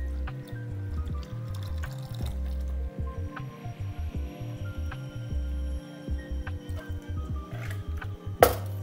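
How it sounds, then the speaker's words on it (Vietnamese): A Little Italy cocktail of rye whiskey, Cynar and sweet vermouth pours into a Nick and Nora glass, a close, steady liquid trickle with small glassy clinks and a sharper knock near the end. "mình sẽ đổ đá trong ly ra và mình sẽ rót vào ly cái cocktail"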